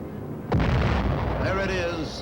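A radio-guided aerial bomb strikes its target in a sudden heavy blast, followed by a rumbling roar, heard in old wartime footage with a narrator speaking over it.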